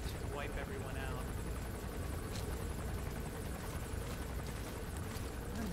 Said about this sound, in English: I'm really hoping that helicopter has to land and refuel soon, because I'm not enjoying it. I'm hovering overhead.